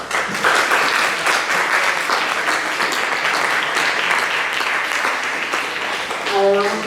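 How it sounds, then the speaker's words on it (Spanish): An audience gives strong, sustained applause for the president of a stolen-babies association in Murcia, the clapping full and steady across the room, with a voice and a brief tonal sound breaking in at the very end. "Un fuerte aplauso para ella."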